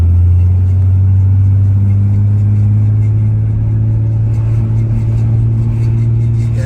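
A turbocharged Nissan Skyline's engine roars close by at full power and high boost, a deep steady drone held throughout without letting up.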